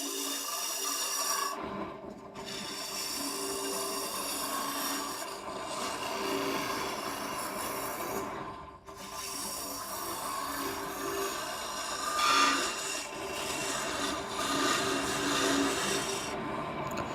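A wood lathe turns a lidded wooden box while a cutting tool works it, giving a steady close scraping and rasping that carries on with two short breaks.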